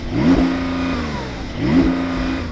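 A Porsche 911 Turbo S sitting in neutral is revved twice to the rev limiter, each sharp climb bouncing off the limiter and then falling back to a steady idle between the blips.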